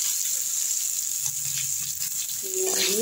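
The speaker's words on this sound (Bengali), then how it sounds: "নুন দিয়ে তারপরে আমি এটাকে একটু মশলাটাকে কষাবো" Dried red chillies with chilli, turmeric and cumin powders and salt frying in a pan, giving a continuous loud hiss and sizzle throughout, with a brief rising whine near the end and no speech.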